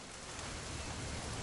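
Steady rain falls over a weekend outdoors, a dense, even hiss of drops hitting surfaces, moderately quiet and unbroken, with no voices.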